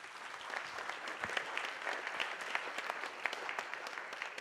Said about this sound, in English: I think he deserves another warm round of applause